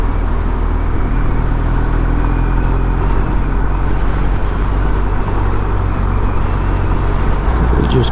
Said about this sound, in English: there's a fair amount of traffic out here